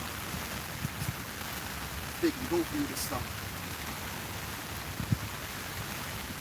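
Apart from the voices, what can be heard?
rain falling outside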